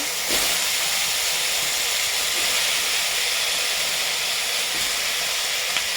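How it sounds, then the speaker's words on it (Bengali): Potatoes frying in hot oil in a kadai give a steady, loud hiss and sizzle that runs unbroken throughout, with no talking. "আলুগুলোকে ভেজে নিচ্ছি"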